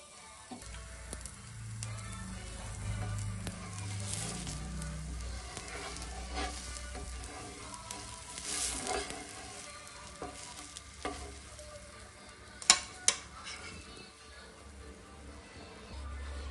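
Butter podi dosa batter sizzles faintly on a hot pan, a soft continuous frying hiss with a few small crackles and light clinks nearby.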